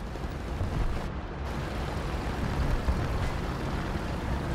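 A tank's main gun fires in a tank battle video game, a broad booming blast buried in a dense, steady roar of engine and battlefield rumble.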